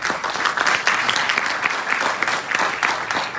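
Applause from the audience at a county Democratic Party judicial forum, a dense and loud wash of clapping that holds steady for a few seconds with no voices.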